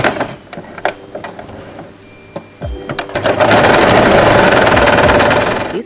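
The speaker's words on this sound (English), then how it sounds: "fold the whole fabric in half and sew this part" A sewing machine stitches fur fabric for a headband, with scattered clicks and handling noises first, then a loud, steady close whir building up over the last few seconds.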